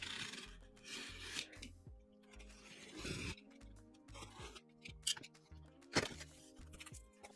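A knife or box cutter slices and rasps through the tape and cardboard of an xTool air purifier package, a string of scraping, tearing strokes close by over a steady low hum, with no talking.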